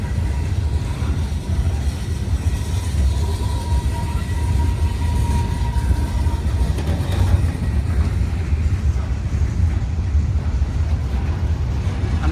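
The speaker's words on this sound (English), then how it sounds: "But the train's slowing down and it starts to slow down." A Union Pacific freight train led by locomotive 8832 runs northbound past a railroad crossing in Springville, Alabama, slowing down, producing a steady low rumble of rolling wagons with faint squeals, close and continuous.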